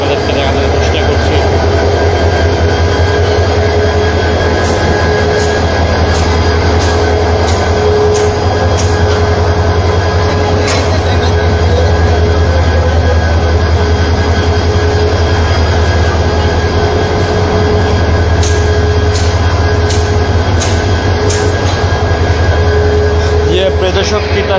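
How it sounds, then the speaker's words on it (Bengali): A modern-styled 2700 series diesel locomotive hauling the Titas Commuter train idles at Kamalapur station, its steady low engine rumble continuous and loud throughout, with a voice talking over it. "তিতাস কমিউটার ট্রেনটি কিছুক্ষণের মাঝেই যেটি আসলে ছেড়ে যাবে"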